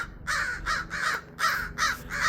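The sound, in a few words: crows cawing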